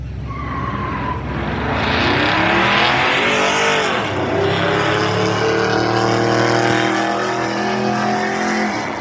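A 1964 Chevelle and a 1965 long roof roar side by side in a drag race shootout, engines loud and sustained, with screeching tires as they launch and pull away.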